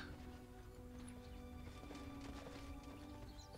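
A donkey courier delivering an item in the video game Dota 2, heard as a quick run of hoof clip-clops layered over continuous game music and ambience.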